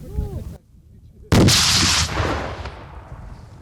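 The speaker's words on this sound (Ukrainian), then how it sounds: "навчають солдатів стріляти з гранатомету. Це гранатомет РПГ-7." A loud, sharp RPG-7 grenade launcher blast bursts out nearby on a military firing range after a brief shout, then a long roaring rumble trails off and fades.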